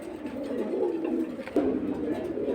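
Pigeons cooing close by, low throaty coos rising and falling with a louder burst midway, heard among caged pairs of fancy pigeons at a bird sale.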